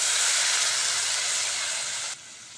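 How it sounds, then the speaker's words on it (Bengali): Water hitting a hot pan of fried onion and garlic gives a loud, close, steady rushing hiss of steam that abruptly drops to a quieter simmering sizzle near the end. "এবার জল দিয়ে দেবো।"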